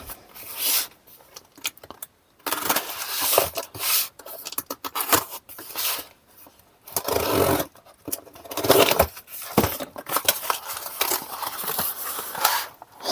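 Cardboard boxes holding sets of screws, bolts, nuts and plastic packages being opened, with repeated crinkling, tearing and rustling bursts separated by short pauses, close and fairly loud, with no talking.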